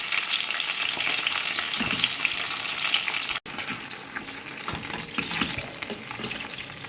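Stuffed eggplants sizzle in hot oil in a pan for a Telugu gutti vankaya curry, giving a loud, bright crackle that is briefly cut by a sharp break and then continues with gentler spitting.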